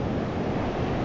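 Sea waves break on a beach at Praia Seca in Araruama, a loud, steady broadband roar of surf close by, mixed with wind buffeting the microphone and no voices.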